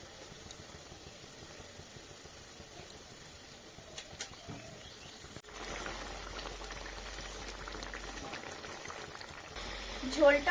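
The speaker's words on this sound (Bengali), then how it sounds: "ঝোলটা দেখুন গরম হয়ে গেছে টকবক করে ফুটছে" Quiet, steady bubbling of thick curry gravy simmering in a pot, soft and close, with a low hum joining partway through.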